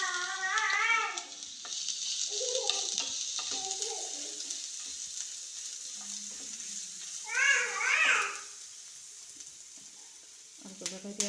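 Ginger garlic paste frying in a pan with mustard seeds and oil, a steady sizzle running throughout beneath a woman's speech, with a short burst of higher-pitched voices near the middle.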